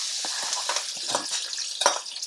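Liver fries in a pan for menudo, a bright crackling sizzle with sharp pops and spatters, close and lively, without talk.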